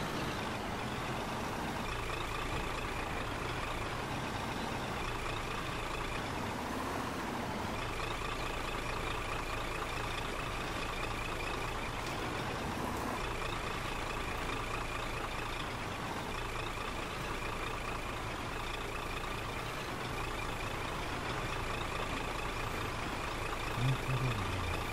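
In the Spin Tires video game, a Scania R420 6x4 truck drones with a steady, low engine rumble that holds constant and fairly faint throughout, with no talking.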